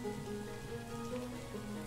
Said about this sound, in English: I still hear the rain.